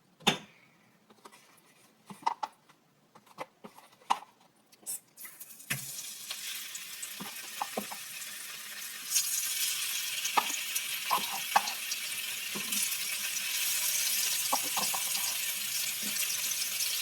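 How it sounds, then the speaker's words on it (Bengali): Hilsa fish pieces go into hot oil in a home kitchen: a few clinks and stirring knocks come first, then a loud, steady sizzle that swells and keeps frying continuously close by. "আমার তেলটা গরম হয়ে গিয়েছে, এবার এর মধ্যে আমি মাছগুলা দিয়ে দিব।"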